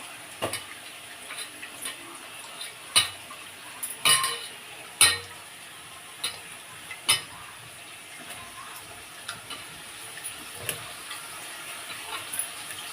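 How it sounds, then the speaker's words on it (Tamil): Onions sauté on low heat in a pan, giving a faint, soft sizzle under scattered clinks and scrapes of a spoon stirring, close by and quiet. "அடுப்பு வந்து சிம்மில் வச்சுக்கோங்க இப்போ வந்து வெங்காயம் வதங்கட்டும்"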